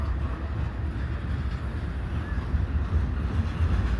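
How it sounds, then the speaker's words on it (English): An EXO passenger train passes at night in Montreal beside a CP freight train, giving a steady low rumble with wind buffeting the microphone, moderately loud and unbroken with no voices. "We just had a EXO train going past the CP train here."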